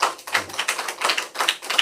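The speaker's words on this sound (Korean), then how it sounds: "귀한 강의 해주신 강사님께 다시 한번 박수로" A church congregation at a mission school lecture claps for the lecturer, a brisk patter of scattered hand claps that stays fairly close and moderately loud.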